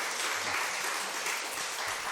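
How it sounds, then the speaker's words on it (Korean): A church congregation claps to welcome a guest, a dense, steady round of applause from many hands filling the room at an even level throughout, with no voices over it. "잠깐 일어나 주시면 우리 큰 박수로 맞이하겠습니다."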